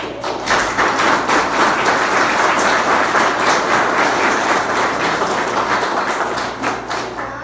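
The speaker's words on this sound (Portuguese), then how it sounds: "Eu queria uma salva de palmas para" An audience applauds after a lecture at a jaguar field day event, steady dense clapping from a crowd, loud and continuous for several seconds without pause.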